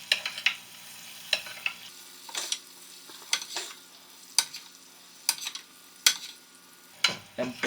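Steak sizzles in browned butter on a grill or pan while hot fat is spooned over it. A constant hiss is broken by repeated scraping and splashing bursts about every second, close and fairly loud.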